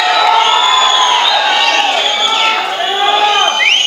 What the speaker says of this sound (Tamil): ப்ளீஸ் ஒரு பெரிய கைத்தட்டல்.